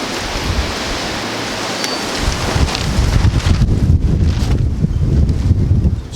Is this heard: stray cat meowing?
no